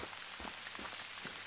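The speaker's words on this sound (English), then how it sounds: "It rains so much here. I love it." Steady rain patters on surfaces in the Hunter Call of the Wild video game, a close, even hiss of drops with soft low thumps throughout.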